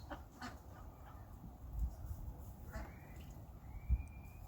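Backyard ducks newly released into an enclosure give soft, scattered quacks and honks at close range, with faint birdsong and low rumbling background noise.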